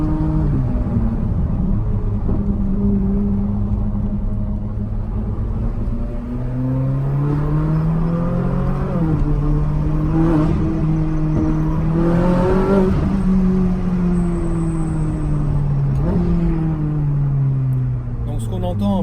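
A sports car with ceramic brakes is driven along, its engine droning and shifting pitch as it accelerates and slows, with a faint high squeal near the end; someone talks over it throughout.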